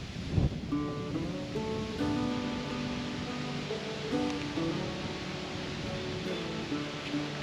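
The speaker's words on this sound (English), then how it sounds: "Wow, wind is strong today." Strong wind blows across a bridge, producing a steady, loud broadband roar that buffets the microphone without letup for the whole stretch.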